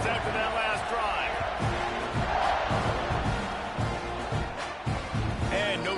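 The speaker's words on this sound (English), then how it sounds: "this crowd is feeling themselves after that last drive" A stadium crowd in an American football video game roars and cheers in a dense, sustained wash of noise while a commentator talks over it.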